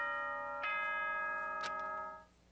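A bright, ringing electronic chime plays in the morning announcement of Danganronpa: Trigger Happy Havoc, two chords striking in sequence, each sustaining in rich, bell-like tones before fading out.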